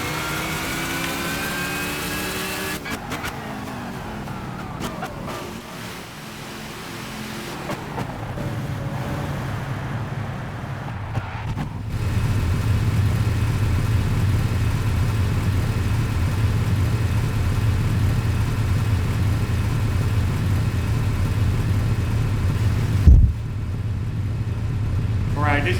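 Race car engine in Gran Turismo 5 during a pit stop, a steady low idling rumble that grows louder midway and holds, with a brief sharp knock near the end.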